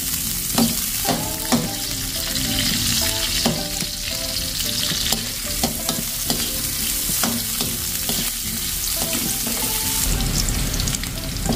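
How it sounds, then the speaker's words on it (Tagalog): Garlic and onion sizzle and fry in hot oil in a pan, loud and steady throughout, with repeated clinks and scrapes of a spoon stirring; no one speaks. "Igisa na po natin ating bawang tsaka sibuyas."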